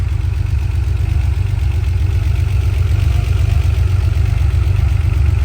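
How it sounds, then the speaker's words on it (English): Rebuilt flat-six engine of a 1974 Porsche 911 Targa Turbo running steadily at idle, a close, even low rumble with a constant mechanical hum and no talking. "The motor runs excellent."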